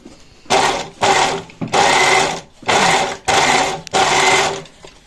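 An overlocker serging the hem of denim jeans, loud close bursts of fast mechanical whirring in five or six runs separated by brief pauses.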